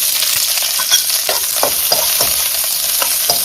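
Pork steak stir-fries in a tablespoon of oil in a wok, a loud, close, continuous sizzle broken by quick stirring scrapes, with no voices.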